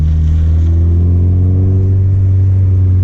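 A manual-transmission car's engine revs steadily and loudly up close, a deep sustained rumble with a strong low hum holding throughout, no voices heard.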